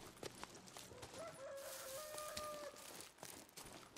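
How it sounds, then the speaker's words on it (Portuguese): A rooster crows once in the Days Gone video game, a faint, drawn-out call heard far off over quiet background ambience. "um galo cantou"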